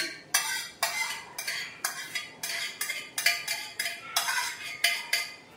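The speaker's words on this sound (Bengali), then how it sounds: "ভালো করে মিক্স করে এবার রেখে দেবো।" Milk being stirred with a spoon after curd is added to set homemade yogurt, a regular series of about a dozen bright scraping and clinking strokes against a bowl, close up and alone.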